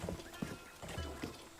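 Horse hooves clip-clop in The Legend of Zelda: Breath of the Wild, a brief run of quick, muffled game footsteps with a snort, fairly quiet.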